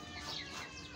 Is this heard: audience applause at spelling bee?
no